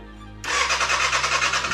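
A wrecked 2013 Kawasaki ZX6R motorcycle engine catches abruptly after a brief quiet lead-in, then settles into a loud, steady, buzzy idle close to the microphone with no talking.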